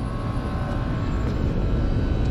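An HVAC blower wheel runs with a constant low, rumbling whoosh of moving air and a faint steady hum, close and unbroken throughout.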